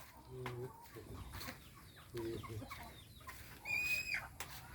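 Soft, repeated clucking from a game bird, a few short calls scattered across a quiet outdoor background.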